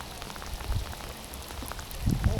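Steady rain patters on a surface at Manori, Mumbai, during a fishing outing, a continuous hiss with soft, heavier drops thudding now and then, no voices present.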